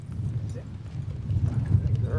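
Horses walk at a steady rhythm with soft clip-clop hoofbeats, muffled and fairly close, under a low rumbling background.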